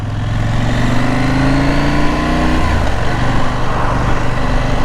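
A KTM 790 Adventure motorcycle engine drones steadily while riding, a loud continuous mid-pitched hum with wind rush whose pitch eases slightly partway through, with no talking.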